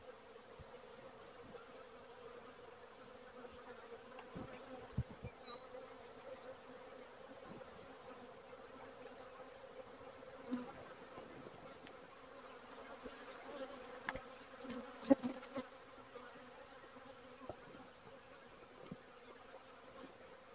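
Honeybees buzzing steadily during a first spring beehive inspection, a faint continuous hum of many insects with occasional small knocks and handling sounds, no talk.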